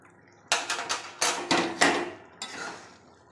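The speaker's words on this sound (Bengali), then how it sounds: "ঘিটা বসে গেছে চামচ দিয়ে বের করতে হবে" A metal spoon scrapes and knocks against a container while digging set ghee out in a kitchen, a quick cluster of about seven sharp clinks and taps, close and clear against a quiet background.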